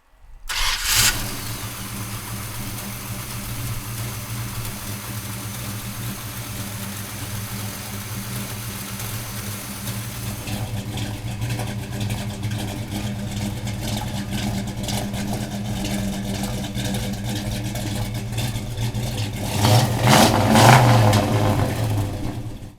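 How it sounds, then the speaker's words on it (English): A 1969 Dodge Charger with a Hemi V8 cranks and fires up, then settles into a loud, lumpy idle before a burst of hard revving near the end, heard close with no talking. "let's fire this Hemi up"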